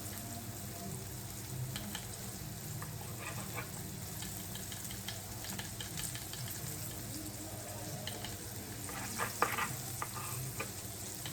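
Flour-dredged chicken pieces frying in a pan for chicken meunière make a soft, steady sizzle with scattered crackles and light scraping, plus a brief louder burst of spattering near the end.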